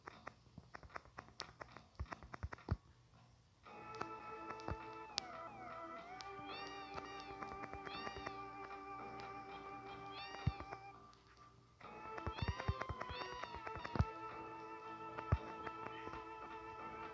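A group of cats in Final Fantasy VII meow repeatedly over a long stretch, their wavering calls clustered in two bursts over a steady tonal backdrop, with a brief lull between them.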